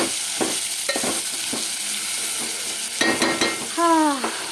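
A spoon stirs vegetable curry with tomato and salt in a pan over the stove, giving scraping and sizzling strokes close by, with a few sharper clinks near the end and no talk.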